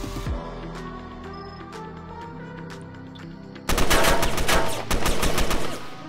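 Rapid AK rifle fire in Roblox Fallen, with sharp cracks echoing early on, then a loud, dense automatic burst breaking out near the end and running for a couple of seconds.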